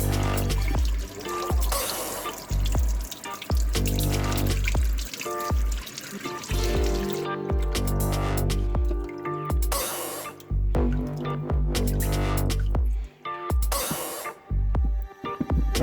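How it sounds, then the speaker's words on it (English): Freshly dug potatoes rinsed under cold running water, a loud continuous spray and splash with rattling knocks as the potatoes shift and tumble under the stream. "We're gonna run them under some cold water and try to get them as clean as possible"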